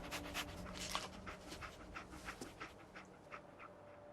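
Dogmeat, the dog in Fallout 4, pants in quick, soft, rhythmic breaths close by, steady and faint with no voices.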